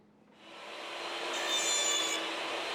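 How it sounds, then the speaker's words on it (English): A table saw makes a 24-inch cut against a stop block on the fence, its whine rising from near silence into a loud, steady cutting roar that holds to the end. "I clamp a stop block to my table saw fence for a 24-inch cut"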